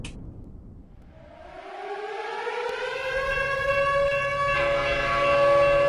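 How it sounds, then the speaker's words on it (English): A siren sound effect winding up from silence, its wailing tone rising in pitch and growing louder over several seconds before holding steady. "I got to put the siren on."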